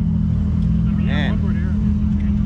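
A GT4 race car pulls away, its engine note rising briefly over a steady low rumble and fading within a couple of seconds, with people talking nearby.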